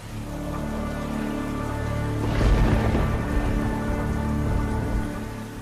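Heavy rain pours steadily around a fisherman's boat in a storm, a dense hiss that swells into a louder rumbling gust midway before easing back, with no voices.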